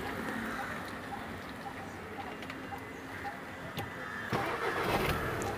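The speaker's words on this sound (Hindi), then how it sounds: "और गाड़ी को एक बार मैं स्टार्ट करता हूँ।" VW Jetta engine cranking and catching on a start, a grainy continuous rumble with a sharper surge near the end, heard at close range amid background noise and faint bird calls.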